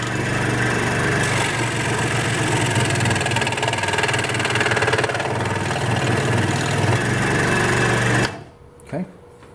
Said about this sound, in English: I have the convenience of a scroll saw. That's why I'm going to use it.